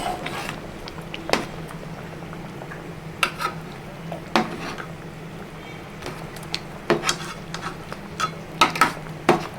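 A ladle stirs fish curry in a pot, making scattered metallic clinks and scrapes at irregular intervals over a low steady background hum, close and moderately quiet, with no talking.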